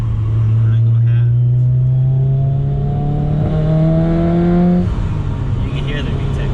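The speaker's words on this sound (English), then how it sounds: "you can hear the VTEC popping" A supercharged Honda S2000 engine revs hard under part throttle, its pitch climbing steadily as VTEC engages, then it drops off sharply near the end. The engine is loud and close, in a busy in-car sound.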